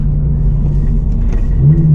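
A Subaru BRZ sports car engine drones loudly and steadily from inside the cabin on mountain switchbacks, a deep constant rumble that rises slightly near the end.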